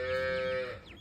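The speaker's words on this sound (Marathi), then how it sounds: "ही गाय सध्या रवीची आहे बघा" A Khillar cow moos once, loud and close, a drawn-out tonal bellow that fades at the end, with no talking.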